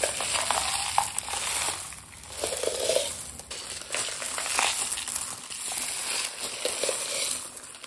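Crystal chips and confetti are stirred in a container, making a continuous close rattling and gritty shuffling that swells and eases with each pass.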